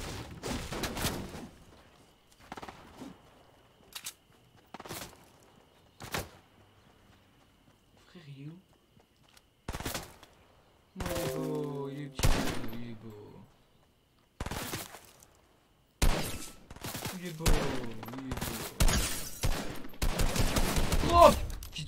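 Bursts of gunfire in an online video game, sharp broadband volleys scattered among game sounds and hoofbeat-like clatter, with excited voices talking between and over the shots.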